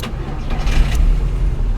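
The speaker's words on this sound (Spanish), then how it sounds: "Voy otra vez a dar marcha." A car engine being cranked by its starter motor, a loud close-up churning whir that begins abruptly and continues steadily for under two seconds, with no voices over it.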